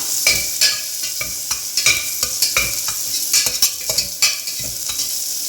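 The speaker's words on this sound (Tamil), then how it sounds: "இந்த வெங்காயம் பூண்டு தட்டி வச்சுருக்கோம்ல அதை சேர்த்துக்கலாம் சேர்த்து லைட்டாக வதக்கினா போதும்" Crushed onion and garlic sauté lightly in a pan for black kavuni rice porridge, with a bright sizzle and quick, irregular spoon scrapes and clicks close by, no one speaking.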